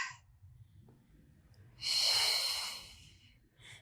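A fitness instructor in a body workout takes one long audible breath, a breathy rushing exhale that swells and fades, close to the microphone after a quieter stretch.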